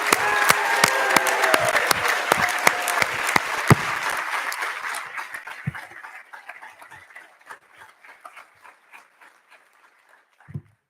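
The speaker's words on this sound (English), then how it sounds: "let's have one more really well-deserved round of applause for our class of" Applause for a graduating dental school class at a university assembly, a large audience clapping loudly and densely at first, then thinning out into scattered, fading claps.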